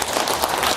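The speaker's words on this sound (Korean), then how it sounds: "이 모든 분들에게 백범 정신을 담은 큰 축하와 감사의 박수 부탁드리겠습니다" Dense, steady applause from an audience filling a large National Assembly Library auditorium at an award ceremony, a continuous wash of many hands clapping close together.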